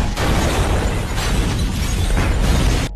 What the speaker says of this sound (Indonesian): Bob mematahkan pipa saluran gas dan rumah itu pun meledak